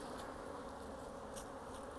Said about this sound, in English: I'm going to brush the bees off this comb